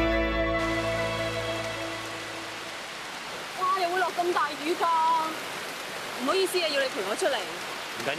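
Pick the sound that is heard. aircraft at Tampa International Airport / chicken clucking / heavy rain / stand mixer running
heavy rain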